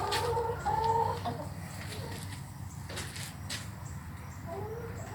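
Backyard chickens cluck nearby in a short run of clucks and calls, loud at first and then settling over a low steady background hum.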